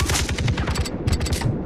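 Rapid automatic gunfire from a co-op session of Far Cry 3, dense overlapping shots rattling continuously at close range with a steady loud rhythm throughout.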